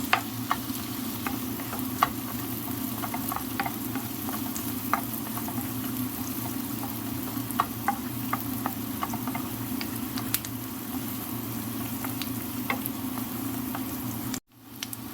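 Garlic frying in a pan for khusa with cheese gives a steady, close sizzle with faint crackles and pops, then cuts off abruptly near the end.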